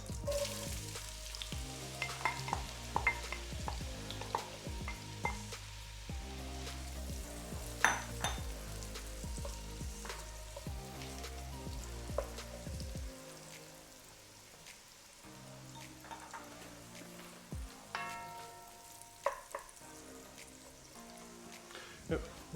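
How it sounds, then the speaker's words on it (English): One large diced onion frying in melted butter and hot oil in a pan, a steady close sizzle and crackle with soft stirring clatter, briefly quieter after the pan is adjusted. "We just want to sweat these onions down."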